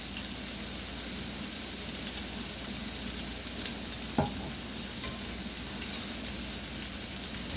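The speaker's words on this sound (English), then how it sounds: "Give that a little bit of a stir." A steady bubbling wash of boiling water with olive oil added, soft stirring of pasta throughout, broken by one brief knock partway through.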